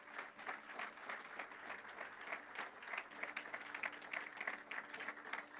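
Congregation applauding together during a church sermon, a steady spread of many hands clapping at moderate distance that holds for several seconds.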